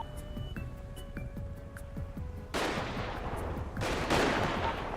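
Gunfire in a GTA V roleplay session: a run of separate sharp shots with ringing tails, then denser, louder bursts of rapid fire toward the end, with no talk.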